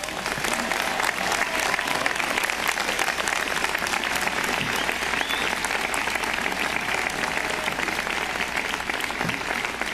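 Sustained, dense audience applause for commencement speaker Steve Jobs at a 2005 university commencement, a large crowd clapping steadily and loudly throughout with no letup.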